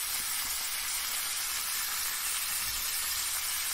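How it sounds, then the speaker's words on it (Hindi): Pointed gourd (parwal) fries in a pan with a steady, bright sizzle, a continuous hissing crackle at an even loudness throughout, close up and alone. "अब मैं इसे फ्राई कर लेती हूँ"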